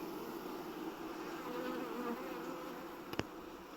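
A continuous drone of many bees buzzing nearby at a hive, steady and moderately loud, with a brief click near the end.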